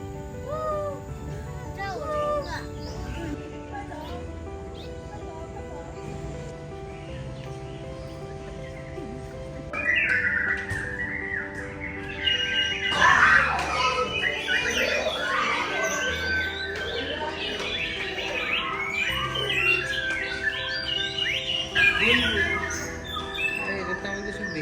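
Amazonian birds call at Bird Paradise in Singapore, with harsh squawks and whistling cries rising over a background hum, loudest and busiest in the second half, while people talk nearby.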